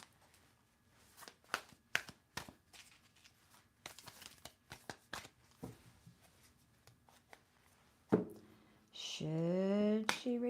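Tarot cards shuffled in a series of soft riffles, taps and crisp flicks, quiet and close, ending with a person speaking.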